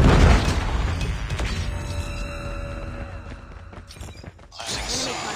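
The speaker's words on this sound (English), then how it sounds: "Predator missile inbound." A Predator missile strike in Call of Duty Mobile: a loud, dense rumble of booms and crashes with mechanical creaks that fades slightly, then swells again near the end.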